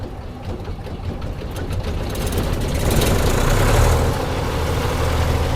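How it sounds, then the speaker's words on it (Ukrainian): A FAHR M600 mini combine harvester's small engine cranks and catches, then settles into a steady, loud mechanical rumble close by, with no talking. "Передачі на нейтралку і запускаємо двигун"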